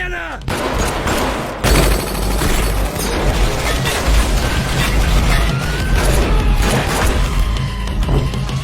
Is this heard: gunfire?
yes